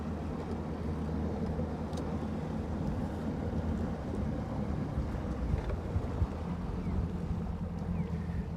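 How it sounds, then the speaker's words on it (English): Wind blows across Lake Guntersville on a fishing outing: a steady, low, rumbling buffet of breeze that runs through the whole stretch without pause, with no voices. "It's a little breezy right here."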